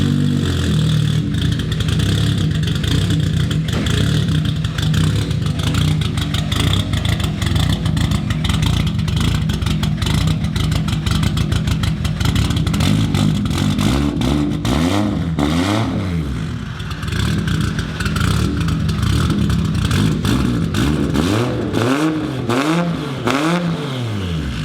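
A warmed-up Nissan R32 GTR with an anti-lag tune runs loud and close, a continuous harsh engine roar with rapid crackling pops throughout and a few rising and falling revs near the end.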